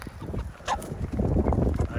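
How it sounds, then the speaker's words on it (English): Cornish Cross broiler chickens, a straight-run flock of hens and roosters, make a busy mix of clucks and squawks close by, with a brief sharper call in the middle, under some faint talk. "I've got a straight run, so I've got hens and roosters in here."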